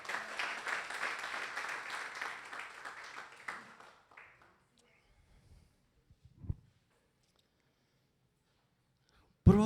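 A church congregation claps together during a service, a moderately loud burst of many hands that fades out after about four seconds, followed by near silence with a faint isolated knock.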